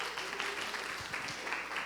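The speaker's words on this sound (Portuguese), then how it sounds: "Uma salva de palmas para os dois." An audience in a spiritual-warfare class claps briefly for two participants, a faint, short burst of applause without talk over it.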